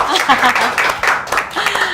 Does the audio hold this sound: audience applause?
yes